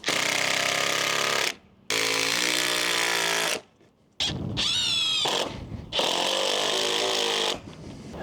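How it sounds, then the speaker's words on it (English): A power driver sinks 100mm screws into the wooden joints of a gate frame in several loud, sustained whirring bursts, each with a rising whine as the screw bites and short pauses between drives. "So I'm going to put some 100mm screws into these joints just to hold them all together."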